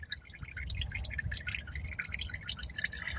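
Motor oil drips and trickles from a car's oil filter area into a catch pan, a steady patter of small drops and a thin stream under a low background rumble.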